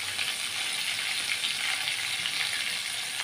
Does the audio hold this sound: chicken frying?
yes